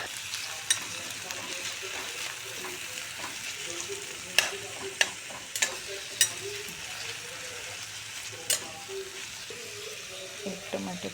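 Crushed onion, garlic and tomato fry in a pan with a continuous sizzle, punctuated by scattered sharp clicks and scrapes of a spoon, close up and without clear speech.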